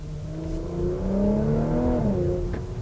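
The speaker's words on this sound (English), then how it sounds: "The exhaust sounds very good." The 2.9-liter engine of a 2021 Porsche Macan Turbo revs through its exhaust in Sport Plus mode, a close, loud, sustained note that climbs in pitch and then drops back, with no talking.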